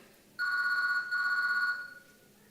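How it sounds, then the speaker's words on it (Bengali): A telephone rings twice in quick succession, a bright electronic trill close by, then fades into quiet room tone. "কার ফোন দেখতো?"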